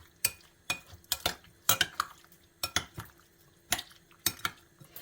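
A utensil clinks and scrapes against a bowl in repeated quick strokes while mixing oil and soy sauce into a salad, an irregular rhythm of sharp taps and short scrapes, close by.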